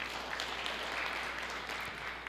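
A church congregation clapping together during a sermon, a dense, even wash of many hands applauding, steady and moderately loud from start to finish with no clear individual claps standing out.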